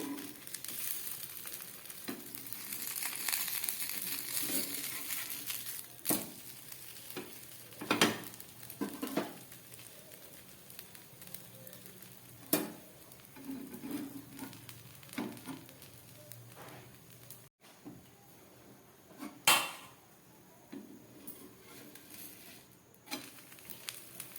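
Sabudana (tapioca) dosa frying in a pan, a steady soft sizzle with occasional sharper clinks and scrapes of a spatula against the pan, close and moderately quiet throughout.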